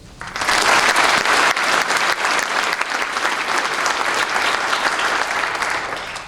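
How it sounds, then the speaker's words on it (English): Audience at a Veterans Day program in a school gym bursts into loud, sustained applause, dense clapping holding steady for about six seconds before tapering slightly. "can we still have a round of applause for the service?"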